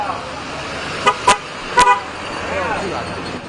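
Car horns honking near a bridge during a street protest, several short loud toots in quick succession over a constant roar of traffic and crowd.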